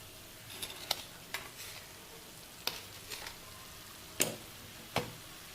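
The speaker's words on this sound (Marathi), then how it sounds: "अशा प्रकारे चांगली परतून घेऊयात" Amaranth greens are sautéed in a pan with a quiet sizzle. A handful of distinct spatula clicks and scrapes against the pan are spaced irregularly throughout.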